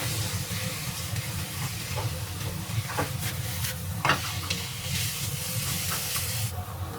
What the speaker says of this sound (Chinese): 搅拌均匀，